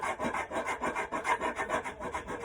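Wood is chiselled by hand in a shed, with quick, even scraping strokes repeating steadily at close range, with no talk.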